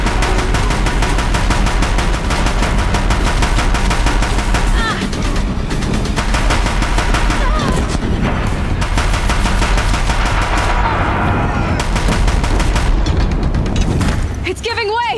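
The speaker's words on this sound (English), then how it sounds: "If the Deathbringers keep firing, this bridge will go." Deathbringer machine gunfire in the Horizon Zero Dawn video game, dense rapid bursts and booming impacts over a battle score, with game characters speaking over the din.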